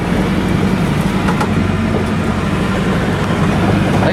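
A Nissan S14 drift car heading out onto the track at a speedway drift day, a loud steady engine drone that stays constant throughout, no talking.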